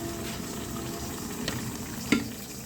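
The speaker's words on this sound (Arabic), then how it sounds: "الشعريه كده معايا احمرت، هنزل بقى بالعدس" Lentils tipped into vermicelli browning in ghee, with a steady close sizzle of frying throughout and a sharp scrape or clack of the addition about two seconds in.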